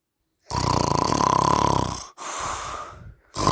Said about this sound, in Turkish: Anne horluyor bu kadın horluyor.